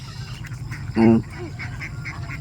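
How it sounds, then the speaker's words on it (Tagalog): Ducks being loaded into a cage for moving off a rice field give one loud, close quack over steady outdoor background noise while people talk nearby. "Grabe ang pag-akyat ng itik."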